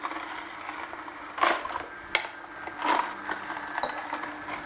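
Juicer auger crushing carrots as they are pushed into the cutting screw, with several irregular crunching bursts and grinding pulses over a low mechanical hum, close and moderately loud.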